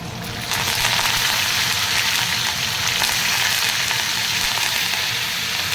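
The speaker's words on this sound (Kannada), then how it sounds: "ಒಂದು ಸ್ವಲ್ಪ ಕಡಲೆಬೇಳೆ ಸ್ವಲ್ಪ ಫ್ರೈ ಆಗಲಿ ಅಲ್ಲಿ." Chana dal and curry leaves fry in hot oil for an onion palya, a loud, continuous sizzle that starts abruptly and keeps up steadily with no talking.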